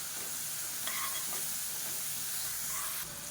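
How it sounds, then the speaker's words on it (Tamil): Ginger garlic paste sautés in hot oil in a kadai for chicken rice, a steady close sizzle with a few scraping stirs, no talking. "இப்போ இஞ்சி பூண்டு நல்லா வதங்கிருச்சு."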